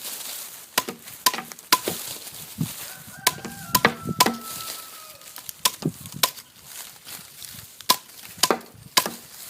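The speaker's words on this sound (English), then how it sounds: "I also went and got a hatchet, and a hatchet works fine" A hatchet chops sorghum cane into pieces on a plywood board, sharp repeated thwacks at irregular intervals, fairly close and loud, with chickens clucking in the background.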